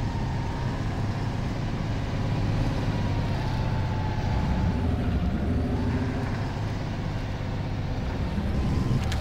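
A Soviet MAZ-7310 heavy truck driving in the Spin Tires video game: a continuous low engine drone with a steady rumble and slowly shifting tone, loud and constant throughout, with no voices.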